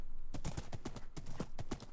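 Horse hooves clip-clop steadily in a Minecraft survival game, a quick regular run of close, distinct hoof strikes heard alone without talk.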